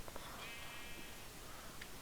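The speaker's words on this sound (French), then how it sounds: "Il y a des moutons." Sheep bleating in the Minecraft video game, a short wavering bleat heard alone over steady background hiss.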